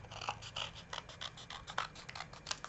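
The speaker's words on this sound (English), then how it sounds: "now I just cut this off" Paper being trimmed with scissors during card making, with a rapid run of crisp snips and rasping cuts close by, quiet overall with no talking.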